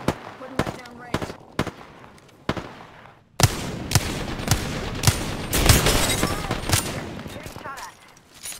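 Gunfire in the Apex Legends battle royale game: sharp, widely spaced single shots at first, then a denser run of loud shots and impacts, with game voice lines mixed in.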